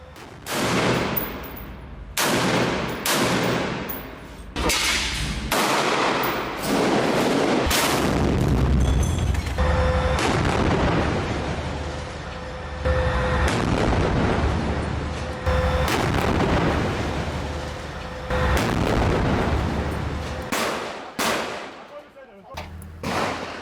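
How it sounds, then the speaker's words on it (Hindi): Israeli tanks fire shells at Hamas positions in northern Gaza, a dense barrage of loud booms and blasts with rapid gunfire crackling between them, sustained for over twenty seconds with voices faintly mixed in. "हमास के ठिकानों पर इजराइल के टैंक गोले बरसा रहे हैं।"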